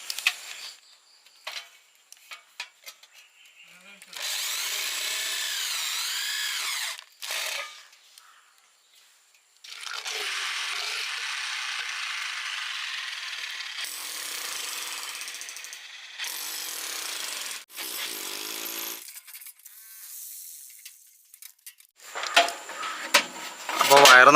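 A power drill drives self-drilling, self-tapping star screws straight into a three-phase meter box, giving several loud whirring bursts a few seconds each with pauses between, and someone talks in the gaps.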